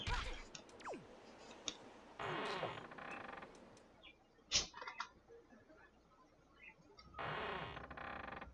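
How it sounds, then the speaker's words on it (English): A door opening in The Wind Waker HD on the Forsaken Fortress, heard as a short creak and click followed by sustained swelling game tones, with quieter gaps and bright chimes between bursts. "Doors open."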